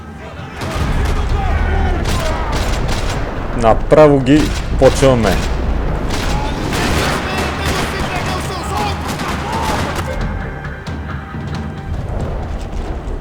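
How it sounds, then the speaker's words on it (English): Dense bursts of rapid gunfire in a parking lot in the video game Max Payne 3 crackle continuously, loud and busy, with a voice speaking briefly over the shooting. "Parking lot rattling with gunfire."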